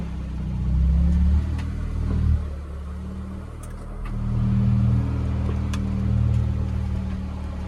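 A car's engine idles and then pulls away after a carburettor strip and rebuild, a steady low rumble with two gentle swells of revving as it moves off, no talking.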